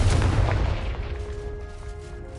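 Confringo blasting spell in Hogwarts Legacy, a loud booming explosion with heavy low rumble that fades into a lingering crackle and faint ringing tones.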